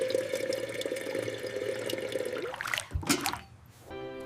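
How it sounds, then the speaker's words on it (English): Water pours steadily into a cup for tea, a continuous trickling stream that stops abruptly, followed by a few faint clinks and drips. "Water for my cup."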